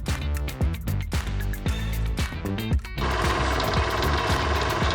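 Three cinematic title sound effects layered together: dense, loud percussive hits and rhythmic impacts give way after about three seconds to a thick, sustained wash of noisy texture, continuous and without talk.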